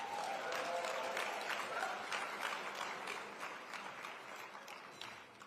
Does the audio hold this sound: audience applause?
yes